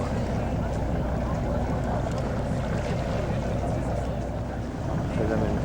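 A motorboat runs on a Venice canal on a foggy day, its steady engine and water wash filling the scene continuously with a broad rumble and wind buffeting the microphone.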